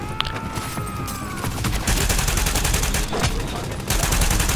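Gunfire from agents in the video game The Division rattles in dense, rapid bursts close up, nearly continuous throughout, with a brief electronic tone near the start.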